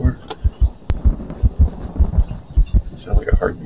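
Steady, loud heartbeat from the horror game The Alchemist's House, thumping in an even double-beat rhythm throughout, close and heavy, with no talk over it.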